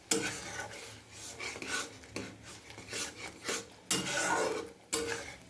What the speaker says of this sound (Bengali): এর ভিতরে অল্প পরিমাণের জল দেবো, দিয়ে এটা ভালোভাবে কষিয়ে নেব।